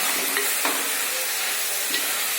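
Turkey berry stir-fry with onion being stirred in a pan, a dense close hiss of frying with a few soft spoon scrapes over about two seconds, no voices.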